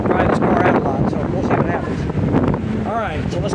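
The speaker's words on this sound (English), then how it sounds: "it's still very windy today, which I'm glad for because it's actually drying this car out" Strong wind blowing outdoors beside a flood-damaged car, a loud continuous rushing buffet against the microphone while someone talks throughout.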